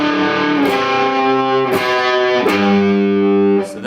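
A distorted electric guitar plays a steady two-note riff on the 5th and 3rd strings, sustained chords shifting a few times with brief pick attacks, loud and close with no talking.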